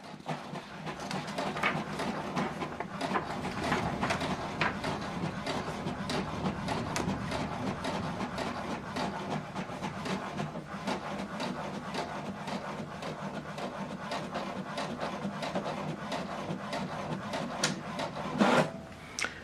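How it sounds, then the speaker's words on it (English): An HP Deskjet 2820e all-in-one inkjet printer runs a single-sided page, giving a steady close mechanical whir and rubbing rasp for the whole stretch, with a brief louder clack near the end. "we're going to print this document one page instead of double-sided."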